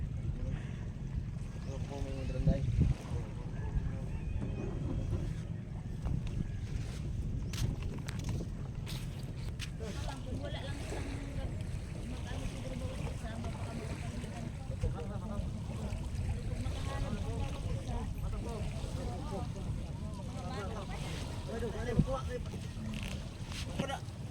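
Steady low rumble of a small boat moving across water in Zambales, Philippines, with wind buffeting the microphone and people talking and laughing nearby throughout.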